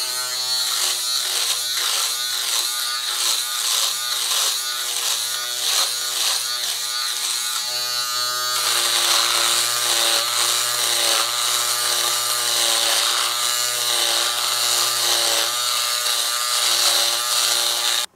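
A Philips Multigroom Series 5000 electric foil shaver buzzes steadily and loudly, its pitch and texture shifting slightly as it cuts through hair, with no talking.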